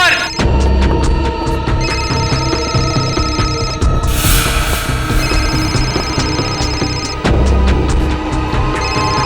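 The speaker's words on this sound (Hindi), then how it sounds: "सालू के साहब का फोन तो यहीं पे बज रहा था ना" A mobile phone rings inside a garage during a crime-drama scene, its electronic ringtone repeating in steady tonal bursts under dramatic background music and booming effects, loud and continuous.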